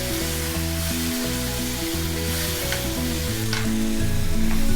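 Chilli powder and turmeric sizzle loudly with the other ingredients in a pan for chicken salna, a dense continuous frying hiss under a steady low hum that swells slightly toward the end, with no talking.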